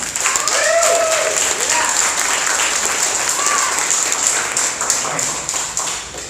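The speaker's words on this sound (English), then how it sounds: "Please, everybody, make a lot of noise as we welcome up on stage" At a startup accelerator demo day in Taipei, the audience gives sustained, loud applause as a pitch team walks onto the stage. The clapping stays steady throughout and thins out a little toward the end.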